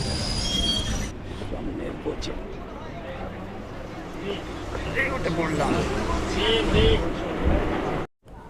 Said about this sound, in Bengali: ঢুকছে আমার ট্রেন হাওড়া লোকাল